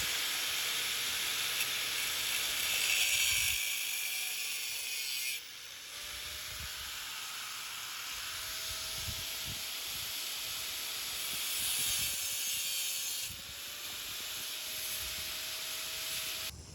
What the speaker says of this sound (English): All right, so we're getting a fresh coat of paint on it.